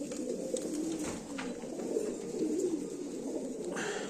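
American Fantail pigeons in breeding pairs coo softly and repeatedly, low warbling calls close by over faint background noise.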